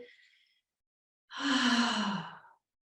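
Deep yoga breath during a calm, all-abilities chair session: a faint trailing breath at the start, a pause, then one close, breathy exhale lasting about a second.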